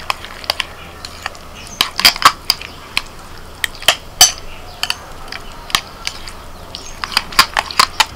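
Spoon clinking against a bowl while chopped onion, green chili and coriander are stirred into curd for doi aloo, sharp irregular taps and scrapes at close range, with no talking.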